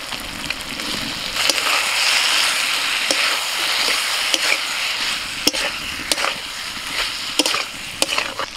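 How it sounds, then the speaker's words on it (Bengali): Fried potatoes stirred into flour and oil in a pan give a steady loud sizzle with scattered scraping clicks from the spoon, for a broccoli and pea curry. "এবার ভেজে রাখা আলুগুলো দিয়ে দিচ্ছি"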